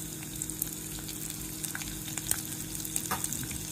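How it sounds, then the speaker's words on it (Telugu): Chopped onions sauté in oil in a pan for upma, a soft continuous sizzle and crackle with occasional scraping stirs and small pops, faint and close, with no talking. "చలో దీన్ని కూడా ఒక 1/2 మినిట్ కొంచెం సాటే చేసుకుందాం."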